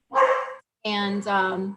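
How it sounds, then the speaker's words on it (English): Dogs barking in a home, two loud close barks, the second longer and drawn out, ringing out over a brief spoken word. "sorry about the dogs in the background."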